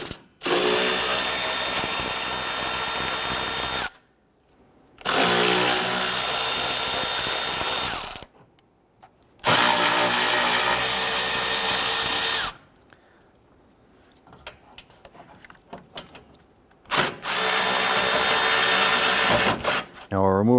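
A power tool spinning out 10mm bolts from the radiator support of a 2012–2017 Toyota Camry, several loud sustained whirring bursts a few seconds each, separated by short pauses and soft clinks.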